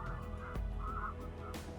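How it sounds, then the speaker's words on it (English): Migratory waterfowl, mostly ducks, call at the Surajpur Wetlands, a few honking calls at moderate distance over a steady outdoor background. "These are all the migratory birds that have come in, mostly ducks."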